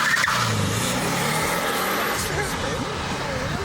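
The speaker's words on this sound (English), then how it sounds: "You can hear the turbo when it goes as well." A Subaru with a turbo accelerates on a track, its engine note climbing steadily and loudly close by, while a person talks over it.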